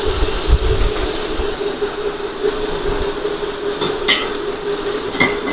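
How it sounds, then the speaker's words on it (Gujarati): Asafoetida, curry leaves and potatoes go into hot oil already crackling with mustard and cumin seeds. The sizzle is loud and steady, with stirring scrapes and a low background hum. "હવે નાખીશું આપણે હિંગ, મીઠો લીમડો અને બટેટા નાખીને ઢાંકી દઈશું."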